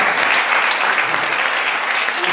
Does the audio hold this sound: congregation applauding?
yes